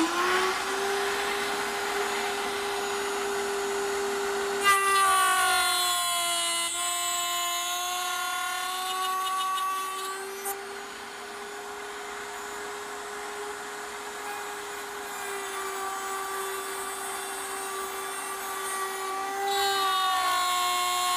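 A router spinning at a woodworking router table, its steady high whine running throughout, shifting in pitch and texture as the bit cuts into the wood and then runs free again.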